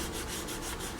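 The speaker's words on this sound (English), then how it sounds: "it's not even sandpaper, it's sanding sponge. Okay, I just want to take, you might be able to hear it" A sanding sponge makes light wet-sanding strokes on the painted surface of a 1/32 Tamiya F-51D Mustang model kit. The rubbing is soft, rapid and rhythmic, faint and close-up.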